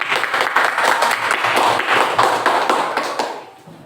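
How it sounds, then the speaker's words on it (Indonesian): Classroom applause after student group presentations, a dense burst of many hands clapping close by that rolls steadily for several seconds before fading out. "Beri tepuk tangan"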